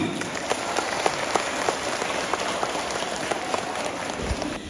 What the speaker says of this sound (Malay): Kita beri tepuk tangan kepada semuanya.